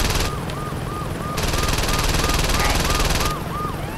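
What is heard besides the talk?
helicopter arriving in the video game Saints Row 2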